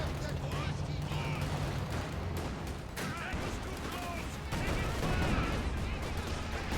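An artillery barrage in Company of Heroes rolls on as a dense, continuous rumble of gunfire and explosions with several sharper impacts, under a steady, excited stream of commentary.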